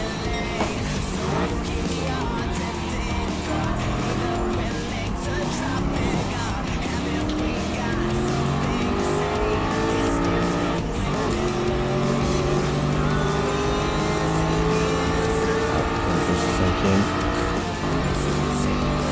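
A GT race car in an FIA GT racing video game roars continuously at high revs, its engine pitch rising and falling through gear changes, with tyre squeal mixed in under a loud, steady engine tone.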